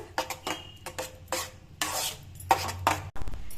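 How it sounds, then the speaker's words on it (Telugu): A spoon stirs and scrapes thick sago halwa in a metal pan over low heat, with repeated bursts of scraping and clinking in an uneven rhythm, close and fairly loud, with no talking. "అలా తిప్పుతూ ఉండాలి ఒక 2 మినిట్స్."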